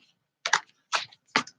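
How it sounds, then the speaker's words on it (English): Tarot cards being pulled and handled, heard as three short, crisp papery flicks spaced about half a second apart, close and fairly quiet against a silent background. "I'm going to pull a couple more cards."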